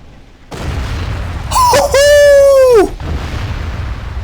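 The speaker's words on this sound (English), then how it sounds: "Did we just get a good catapult shot?" A catapult shot lands in a video game with a low boom, followed by a sharp whistling, sliding tone and harmonic ringing that fade after about a second, over a steady low rumble.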